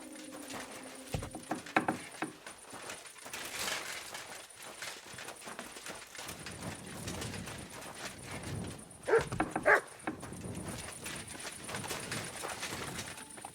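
A dog in the video game Kingdom Come: Deliverance II barks and whimpers in scattered short bursts, with a few louder yaps near the end, over quiet ambient game sounds.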